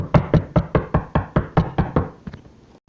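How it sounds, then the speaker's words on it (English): Knocking on a front door: about eleven firm, evenly spaced raps close by, the last few fading softer, with nothing else audible. "I heard a iconic knock on the door"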